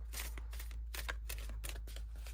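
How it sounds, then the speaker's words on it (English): Glossy Saltwater reading cards shuffled by hand, a quick run of crisp riffling bursts in steady rhythm, close and clear with no talking. "These actually have a really smooth shuffle."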